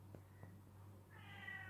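A cat meows nearby, two short faint chirps followed by a longer drawn-out meow toward the end, set against a constant low electrical hum in a quiet room.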